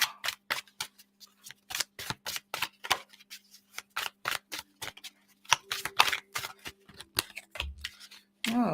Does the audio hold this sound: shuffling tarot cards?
yes